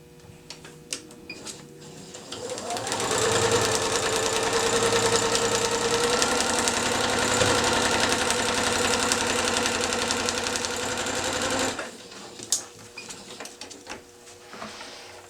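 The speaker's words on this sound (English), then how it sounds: "Flip it over and sew along that line." Sewing machine stitching quilt fabric along a marked line: a few soft handling clicks, then a steady close mechanical whir with a fast rhythmic stitch chatter for about nine seconds, stopping abruptly before more light handling noises.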